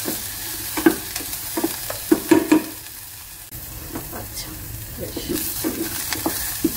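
Garlic and onions sautéed in a little oil, steady sizzle with repeated close scraping and clinking of a utensil stirring the pan, in irregular bursts.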